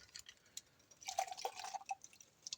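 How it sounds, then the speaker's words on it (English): Leftover canned-soup liquid, about half a cup, poured into a pot to rinse out the residue: a brief splashing, trickling pour lasting about a second, fairly quiet, with no talking. "I'm just pouring it in here to wash out the residue"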